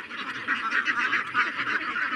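Farm ducks quack and honk in a steady, dense chorus close by, the calls overlapping in quick pulses with no talk.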